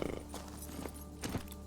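Roach, the horse in The Witcher 3, runs with quick clip-clop hoofbeats at moderate distance, the beats bunching into a brief louder flurry near the end over a low game ambience.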